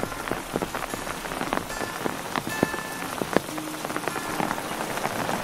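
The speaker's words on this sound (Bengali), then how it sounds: "এত বৃষ্টি পড়ছিল যে আমরা আর রুমের ভেতর থেকে আর বেরোতে পারছিলাম না।" Heavy rain pours down in a small village near Kalimpong, drumming steadily on surfaces with dense, close patter and scattered louder drops throughout.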